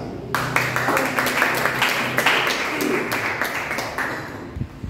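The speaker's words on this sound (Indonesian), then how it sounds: "Beri tepuk tangan bagi Tuhan." A church congregation claps for God at a Christmas-season service: a dense, steady patter of many hands filling the room for several seconds, fading slightly at the end.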